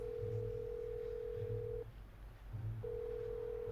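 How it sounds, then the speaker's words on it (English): A cell phone app dials a number with a steady electronic telephone tone that holds, cuts out briefly, then resumes, over a low background hum. "My cell phone app can dial the number from the tomes."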